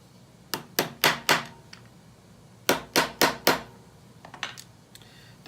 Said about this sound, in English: the anchors are going to go into the lower of the 2 holes, and we'll tap those in like we did before